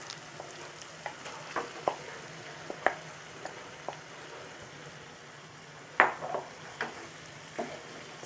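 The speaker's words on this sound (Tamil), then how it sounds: "இப்போ இந்த ஸ்டேஜில் நம்ம மேரினேட் பண்ணி வச்சுருக்கிற இந்த சிக்கன் பீசஸை இதில் சேர்த்துடலாம்." Marinated chicken pieces sizzle in a pan with onion and tomato for Chettinad chicken chukka, a soft steady fry broken by scattered scrapes and clinks of a stirring utensil against the pan.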